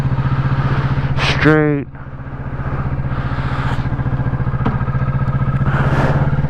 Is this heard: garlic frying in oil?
no